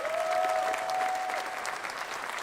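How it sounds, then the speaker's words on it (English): An audience claps steadily for the new Maryland men's basketball head coach at his introduction event, a dense, even round of applause that carries without talk. "Let's give him a round of applause."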